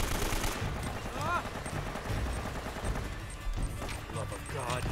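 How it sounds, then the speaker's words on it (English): Rapid automatic gunfire in Uncharted: Drake's Fortune, dense bursts of shots crackling over in-game sounds, with brief pauses between volleys. "Can I please get a gun that sounds like an AK?"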